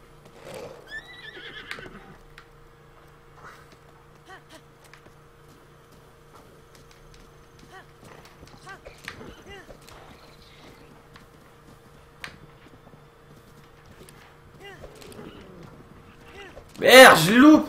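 A horse whinnies loudly near the end in The Legend of Zelda: Breath of the Wild on Wii U, after scattered quiet game sounds, faint hoof steps and a steady hum.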